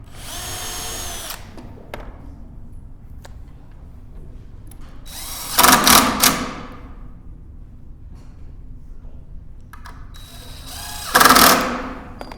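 A power drill drives screws into a wooden chair in two loud, short whirring bursts several seconds apart, with quieter handling noises between.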